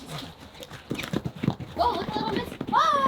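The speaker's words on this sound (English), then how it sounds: "Okay, last horse." Horse hooves clip-clop on the ground on a foggy morning as the last horse is brought in, a loose, uneven string of nearby steps heard under people talking and calling out.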